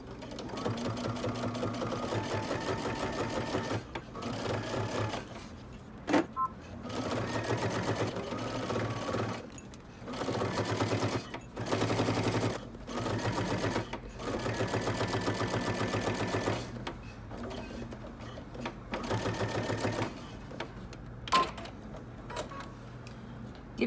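A sewing machine stitches along the binding edge of a dress, its rapid mechanical whir running in long bursts separated by brief pauses, close and steady with no talk.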